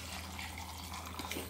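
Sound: water poured into salsa blender

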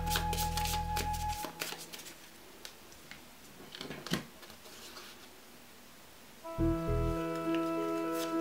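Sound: shuffling piles of cards for the Bulwark card game

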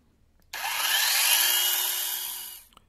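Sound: cordless brushless electric chainsaw running

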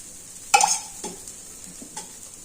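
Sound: rice flour roti frying on a pan with oil

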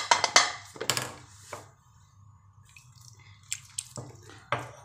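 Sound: sprinkling water into sweet potato mixture

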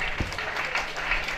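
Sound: audience applause at college anniversary ceremony

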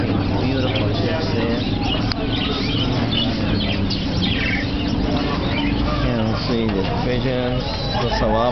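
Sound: doves and pigeons cooing

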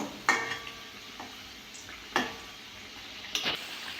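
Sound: frying flour and sugar sweets in a pan

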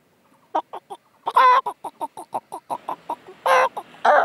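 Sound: man imitating a chicken

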